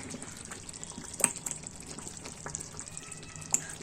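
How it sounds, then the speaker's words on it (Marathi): Pav bhaji bubbling at a boil in a pan on a home stove, a soft, steady sizzle and simmer, fairly quiet, broken by a few small pops and splutters. "त्याला अशी एक उकळी आली की आपली पावभाजी तयार झाली।"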